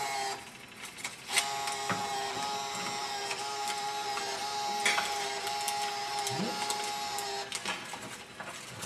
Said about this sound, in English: I'm going to start threading the paper into the mechanical feed